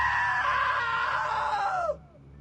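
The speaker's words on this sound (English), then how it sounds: "Now that was a great scream." A long, loud scream holds steady for almost two seconds, then drops sharply and cuts off into near silence.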